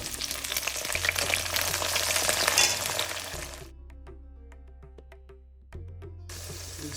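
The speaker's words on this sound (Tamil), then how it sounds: "இந்த பூண்டு வெங்காயம் நல்லா இந்த எண்ணெயில் ரோஸ்ட் ஆகட்டும்" Garlic and small shallots fry in oil with a loud sizzle that gradually calms to sparse pops and crackles before flaring up again, with no one talking.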